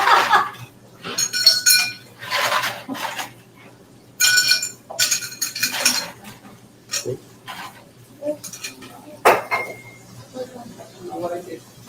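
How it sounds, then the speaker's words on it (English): Ice clinks and rattles into a tulip-shaped glass in a commissary kitchen, coming in irregular bursts of sharp clattering with pauses between, while people talk nearby. "I'll fill that up with ice."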